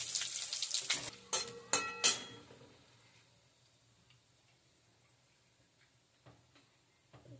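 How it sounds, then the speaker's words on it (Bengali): Cumin, whole garam masala, two bay leaves and a dry red chilli hit hot oil with a few sharp crackles and pops at the start, then settle into a faint, quiet sizzle with the odd tick. "তেলে ফোড়ন দিচ্ছি, জিরে, গোটা গরম মশলা আর তেজপাতা দুটো, শুকনো লঙ্কা একটা"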